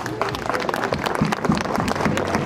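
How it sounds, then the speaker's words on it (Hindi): An audience at a school annual function claps hands. The applause is brisk and fairly loud, with individual claps standing out from the crowd noise through the short burst. "तालियां नहीं रुकनी चाहिए।"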